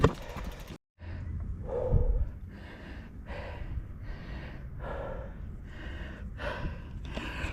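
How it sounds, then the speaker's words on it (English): Heavy, rhythmic puffing and panting from a mountain biker pushing uphill, roughly one loud breath per second, close and up front with little else around. "You can hear me puffing and panting"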